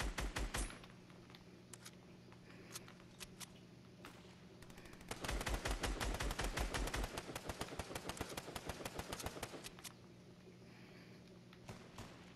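Rapid automatic gunfire in a Fortnite Chapter 4 trios match comes in sharp bursts, with an opening volley, then a long, dense stretch of shots that thins to scattered pops over a low hum.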